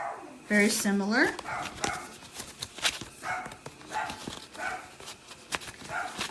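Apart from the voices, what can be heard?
dog barking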